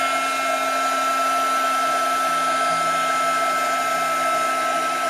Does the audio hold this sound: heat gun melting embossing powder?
yes